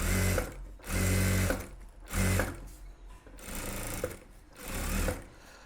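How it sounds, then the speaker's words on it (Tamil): A sewing machine runs edge stitches along blouse lining in several loud, buzzing bursts of a second or so, with short pauses between them, close up and without talking. "இப்போ இந்த லைனிங்கை அடித்து இழுத்து டைட்டாக பிடிச்சி ஓரத்தில் அந்த எஜ்ஜு தையல் போடுங்க."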